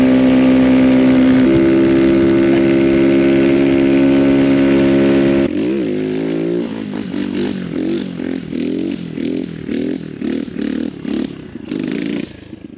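An Amazon X Pro Storm 150 DLX ultralight dual-sport motorcycle fitted with a 14-tooth sprocket holds a loud, high-revving engine drone, then shifts into a series of rhythmic rising and falling revs as the rider accelerates and lets off, close and unbroken by talk.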